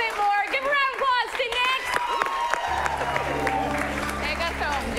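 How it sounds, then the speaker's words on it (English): A comedy show audience applauds for an improv performer, a steady patter of clapping with some crowd noise, partly under a host talking early on, then continuing beneath a low sustained musical tone. "Give a round of applause"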